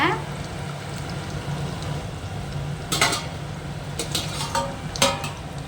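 A pot of thick fish curry bubbles and simmers with a soft, continuous crackle, broken by a few light clinks from a utensil against the pot.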